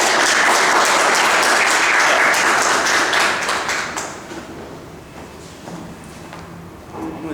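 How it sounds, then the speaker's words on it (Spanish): A lecture audience at a university breaks into dense, steady applause to welcome a mathematics lecturer. The clapping is loud and full at first, then thins and fades toward the end. "Queremos recibirlo con fuertes aplausos."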